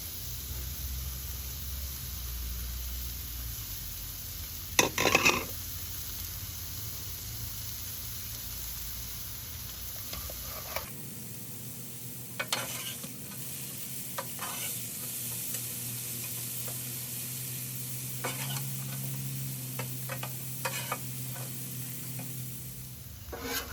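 Snow peas and mushrooms stir-fry on a Blackstone griddle, a steady close sizzle with scraping spatula strokes and occasional sharp clatters of metal on the hot flat-top.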